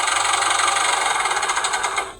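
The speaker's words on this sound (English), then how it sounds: "Finally, tractor sounds." Toy tractor engine sound from a Matchbox farm playset, a steady buzzing, rattly electronic engine drone played loud and close with a slight pulsing rhythm, fading at the end, with no talk.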